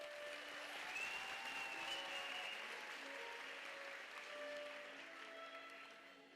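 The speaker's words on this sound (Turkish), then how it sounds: "Alkışlarınız Ozan, Tülay ve Mahir için" A studio audience applauds performers on a Turkish television talent show, a steady, fairly faint wash of clapping that holds for several seconds alongside faint tonal music before slowly tapering.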